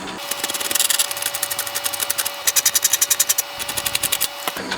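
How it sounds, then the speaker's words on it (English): Screws are worked out of a Bose prototype speaker with a tool, producing close, rapid rhythmic scraping and ratcheting grinds that come in quick bursts, alone without talk. "Now I'm going to go with the screws at the top that I can see."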